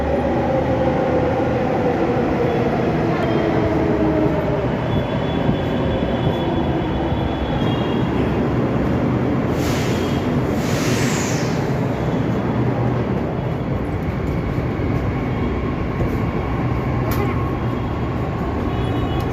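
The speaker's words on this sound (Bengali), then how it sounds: "আসছে এবার এই মেট্রোতে চাপবো আমরা" A Delhi Metro train pulls into the station and runs on with a loud, continuous rumble heard from close by, with a brief wheel squeal partway through.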